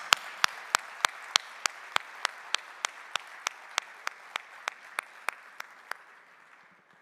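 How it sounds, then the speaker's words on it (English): Audience applause for developers joining the stage at a Ras Al Khaimah event, heard as a regular series of sharp, evenly spaced claps over a soft bed of crowd clapping that fades out near the end. "let us give them one clap."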